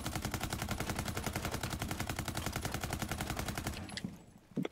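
Sustained automatic weapon fire in Rainbow Six Siege, a steady, loud, rapid rhythm of evenly spaced shots lasting several seconds before cutting off into a few scattered sounds, with no talking.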